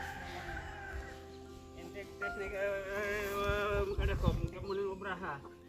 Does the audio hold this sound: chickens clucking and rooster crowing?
yes